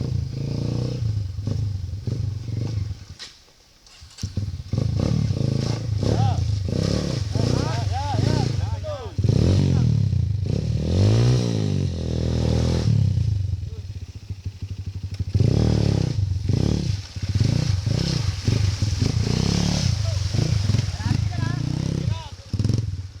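Motorcycle engine revved hard near a river and dam, a loud, rough roar rising and falling in repeated surges with clattering, while people talk and shout over it.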